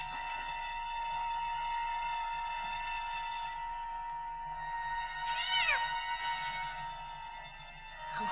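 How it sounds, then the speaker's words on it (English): A cat meows once in a film scene, a drawn-out cry rising and falling partway through, heard fairly close over a steady tonal background hum with no talking. "Oh. Hey, that's my cat."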